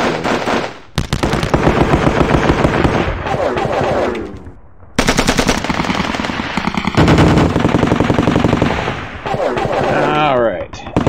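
Rapid machine-gun bursts and gunshots crackle through a World War II strategy game, Sealion '40 by John Tiller Software, loud and near, coming in dense volleys separated by short pauses.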